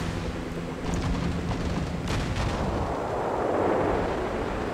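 Anti-aircraft guns on a warship in a naval combat game fire continuously, a dense rumbling barrage of booms and crackling shots that stays steady and loud throughout.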